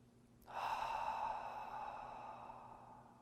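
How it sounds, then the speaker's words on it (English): A single deep, slow breath is drawn in and let out, starting abruptly and fading gradually over several seconds, close and clear with no talking. "take a deep breath, just like this"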